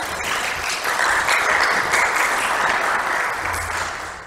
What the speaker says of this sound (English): Applause is appropriate.